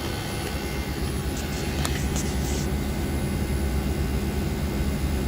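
A Friedrich VRP air conditioner's compressor and outdoor fan run outdoors in about 97-degree heat, making a loud, steady broadband roar and whir that holds constant for the whole stretch, with no talking.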